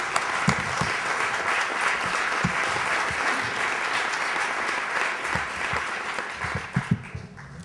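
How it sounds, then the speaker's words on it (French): An audience at a public forum in Québec claps for a speaker: sustained, full applause from a roomful of people, steady throughout and tapering off at the very end with a few last claps. "on peut applaudir Madame Ouellette si vous le souhaitez."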